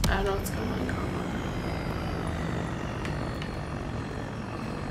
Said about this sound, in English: It sounds like there's a plane.